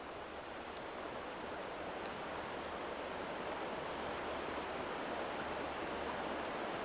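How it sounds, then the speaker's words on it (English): A waterfall rushes somewhere out in the western countryside, a steady, unbroken wash of broadband roar that holds at an even level throughout, with no voices or other sounds over it. "There's quite a waterfall back over here."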